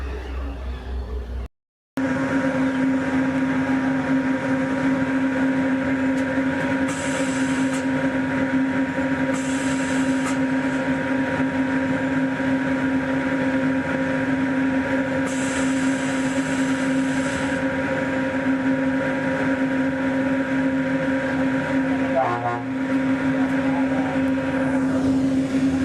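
Disneyland monorail running on its beamway, a steady loud drone and hum heard from inside the car, continuous throughout with brief shifts in tone.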